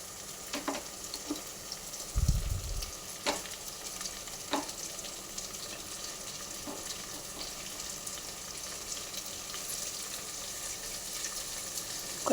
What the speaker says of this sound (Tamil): இஞ்சி பூண்டு பேஸ்ட்டு போட்டு நல்லா வதக்கிக்கோங்க